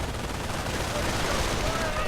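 Gunfire in a World War II strategy game as charging grenadiers are cut down, a dense, continuous crackle of rifle and machine-gun fire, loud and sustained, with a voice talking over it.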